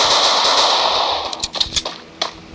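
Video game gunfire comes as a quick cluster of sharp shots in the second half, following a loud sustained noise, with a final burst near the end.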